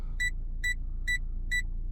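A car's rear parking sensor gives four short, evenly spaced warning beeps, each a bright electronic tone, over a low steady engine rumble.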